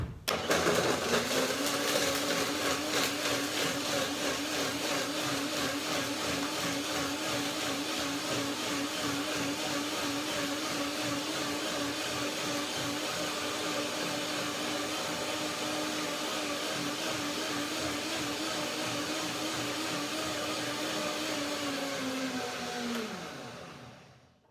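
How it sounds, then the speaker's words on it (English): A blender blending cashew cream whirs loudly and steadily for over twenty seconds at close range, its motor pitch holding level before winding down at the end. "and then I blend it to the blender dance"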